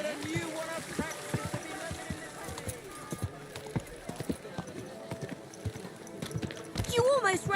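Horse hooves clip-clop steadily in a Kingdom Come: Deliverance 2 game scene, with voices talking over them and a whinny near the end.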